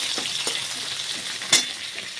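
Chopped garlic, green chilli and tomato sizzle in hot oil in a pan for a fish-head and banana-stem ghonto, with a steady close crackle, a few soft stirring strokes and one sharp clack of the spoon.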